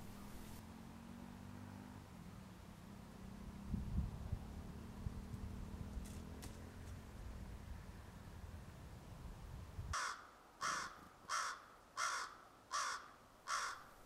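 Crows caw in a row of six loud, evenly spaced harsh calls near the end, after a quieter stretch of low hum and faint outdoor noise, in a snowy setting.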